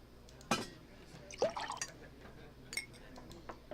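In a Nancy Drew video game, a blended drink is poured into a big glass, heard as a few short liquid splashes and drips with light glassy clinks, fairly close and sparse.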